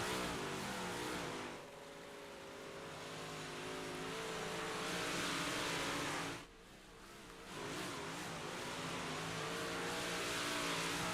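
Big Block Modified race cars roaring around a dirt track, engines loud and continuous with rising and falling revs, two brief dips where the noise drops off.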